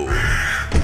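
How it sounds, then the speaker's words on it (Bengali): A single harsh crow caw rings out loud and close in a spooky Bengali cartoon, held for most of a second with a low thump near the end. "অমনি একটা কাকের কর্কশ ডাক শোনা গেল।"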